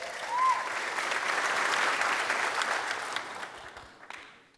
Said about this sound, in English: Let's have an applause for that, too.